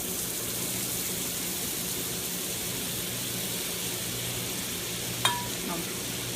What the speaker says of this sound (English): I'm adding a stick of butter in.